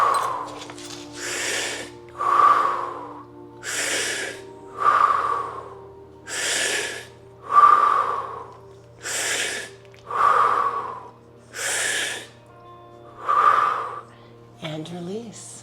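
Eight forceful, rhythmic breath bursts repeat evenly, each a loud rushing huff followed by a pause, during an energizing yoga twist breathing exercise, with a low steady hum underneath.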